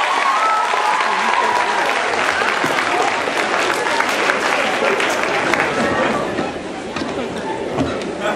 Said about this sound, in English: please, by show of a round of applause